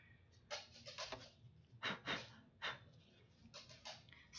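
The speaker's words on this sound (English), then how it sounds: "please pardon my dogs, because for some reason they just decided now they don't want to be lazy and they want to wrestle." Two dogs wrestle close by, giving quiet, quick bursts of panting, snorting and huffing breaths in an irregular rhythm.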